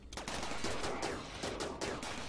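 Mechanoid miniguns in the colony sim Rimworld fire in dense, continuous rattling volleys, loud and harsh with overlapping shots, and no voices.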